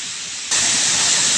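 Water rushing at Skalon Falls, a dense, steady hiss of falling water that swells louder after a moment and continues unbroken, with no voices.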